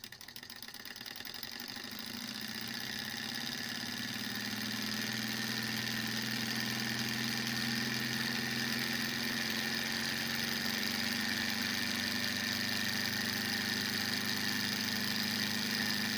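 A small Stirling heat engine heated by a small fire runs steadily for the whole stretch, giving a continuous mechanical hum and rattle with a slight vibration and no talking.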